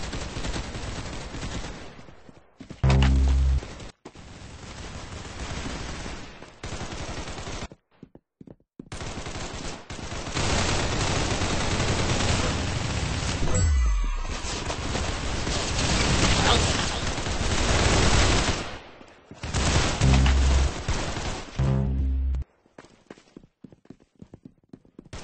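Bursts of rapid gunfire from the Roblox game Arsenal, loud clustered shots separated by short quiet gaps, with a voice talking between some of the volleys.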